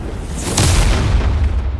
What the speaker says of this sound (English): Once a grenade is thrown, it really shouldn't come flying back at you.